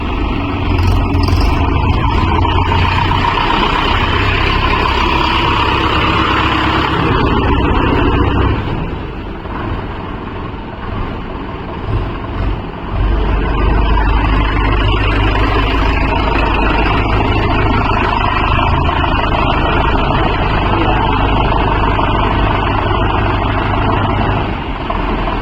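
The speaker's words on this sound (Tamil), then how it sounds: "அதில் வண்டி கொஞ்சம் நவுத்தி போட்டுருக்குறாங்க ரிவேர்ஸ்ல" A Mahindra Yuvo Tech Plus 585 4WD tractor engine runs loud and close while the tractor backs up, with a steady diesel drone and a brief dip midway before the engine note returns.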